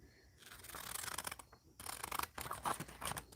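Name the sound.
cutting the top off a paper page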